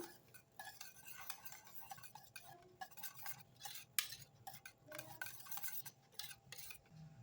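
A pineapple custard mixture with a few drops of pineapple essence gets stirred in a bowl, giving faint, intermittent spoon scrapes and light clinks in an otherwise quiet room.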